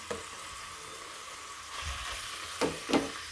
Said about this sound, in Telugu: ఫస్ట్ ఇవన్నీ మంచిగా ఆయిల్లో వేగాలండి